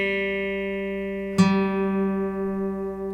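A single acoustic guitar string is plucked while being tuned by ear, slightly flat, joining a tone already ringing, then sustaining and slowly fading alone.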